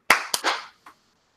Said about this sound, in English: we're clapping in 3,